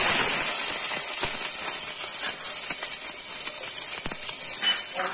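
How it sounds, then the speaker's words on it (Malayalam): Sliced onion dropped into hot oil in a pan after mustard seeds have spluttered, cooking for a papad curry: a loud, steady sizzling hiss with scattered crackles and pops, heard up close with no talking. "കടുക് പൊട്ടിക്കഴിഞ്ഞാൽ സവാള ഇട്ട്"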